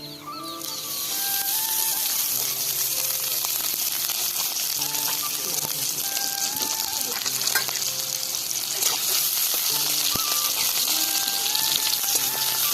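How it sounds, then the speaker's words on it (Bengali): Chopped onions with garlic frying in oil in a pan, giving a continuous, close and fairly loud hiss and crackle that builds in the first second and then holds steady, with faint music underneath. "পেঁয়াজটা খুব ভালোভাবে লাল লাল করে ভেজে নেব"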